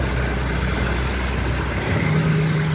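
Cars sit idling in a flooded road during heavy rain, a steady broadband wash of rain and low engine hum running unbroken throughout at close range.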